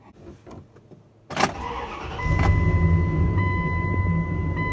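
A car engine cranks and fires up during a cold cranking amps battery test, a sharp burst followed by a steady close idle running alone to the end.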